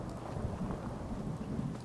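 Thunder rumbles low and steady through a rainstorm in a video game, with constant rain hiss and no voices, the rolling storm sound holding at an even level throughout.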